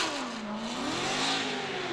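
Matt Field's Corvette drift car with Borla exhaust and Falcon tires revs hard at a Formula Drift qualifying session, a sustained roaring engine note that dips and climbs again, heard from a distance over track ambience.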